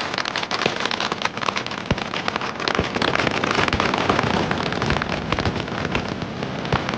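Firecrackers burst in dense, continuous crackling volleys at a Narakasur effigy burning. Sharp pops stand out now and then through the steady loud rattle, with no clear talk.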